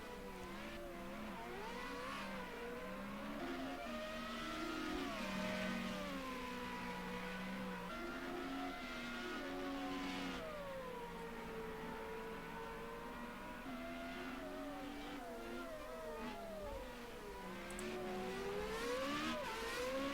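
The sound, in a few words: Formula Renault 3.5 race cars in Project CARS 2 video game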